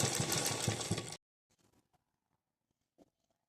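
A sewing machine stitches a straight border on a blouse with a fast, loud, continuous whirring run nearby, then stops abruptly and leaves only faint handling taps.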